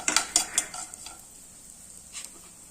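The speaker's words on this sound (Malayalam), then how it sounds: "ബദാമും മുന്തിരിയും ഒക്കെ നമുക്ക് നെയ്യിലിട്ടൊന്ന് വറുത്തെടുക്കാം" Almonds and grapes frying in ghee, a few faint stirring scrapes and soft sizzles at the start, then fading to quiet.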